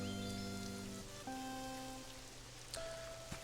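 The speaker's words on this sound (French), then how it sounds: "il fait trop froid, il pleut" Rain in the video game Pokopia, a soft steady patter running alone behind layered sustained music tones at a low, even level.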